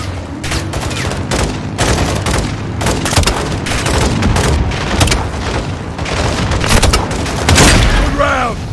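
A launcher explosion in Call of Duty Modern Warfare 2 booms amid heavy gunfire, loud repeated blasts and rattling shots filling a chaotic battle, with soldiers shouting over the din.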